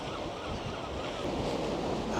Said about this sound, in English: it does get a little choppy along this stretch